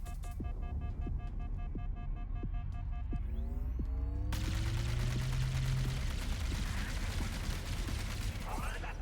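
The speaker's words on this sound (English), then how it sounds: "Guess I'm using a needler." A needler weapon fires in the video game Halo: Campaign Evolved, a burst of rapid crackling shots breaking in partway through over a busy, continuous game soundscape of tonal effects and mechanical noise.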